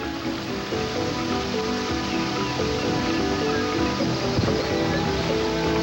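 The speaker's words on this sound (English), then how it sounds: "The rain grows heavier." Heavy rain pours steadily onto a forest clearing and bay in Odzala National Park. It forms a dense, even hiss with no pauses.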